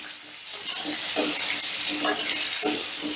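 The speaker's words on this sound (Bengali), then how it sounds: "এবারে ওই তেলেই আলুগুলো ভেজে নেব" Potato pieces frying in turmeric-tinged oil over high gas flame, a continuous close sizzle broken by periodic stirring scrapes and clinks of a spatula in the pan.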